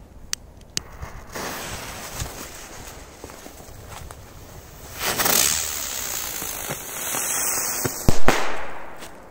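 A small airplane-shaped firework: scattered small pops and crackles build to a whooshing launch, followed by a couple of sharp bangs near the end, fairly close by.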